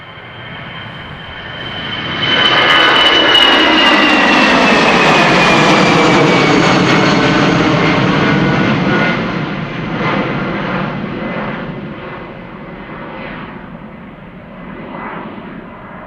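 An Air Arabia Morocco jet departing Amsterdam Schiphol bound for Tangier, its engine roar building quickly to a loud, sustained rumble with a sweeping whine, then slowly fading into the distance.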